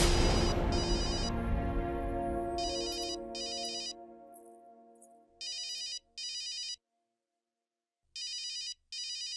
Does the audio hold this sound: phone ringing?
yes